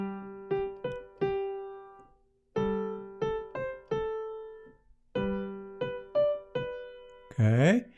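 Piano playing a short rhythm exercise of quarter, eighth and half notes from a beginner lesson, with clear separate struck notes and chords in an uneven pattern, brief pauses between phrases, and a short burst of speech at the end.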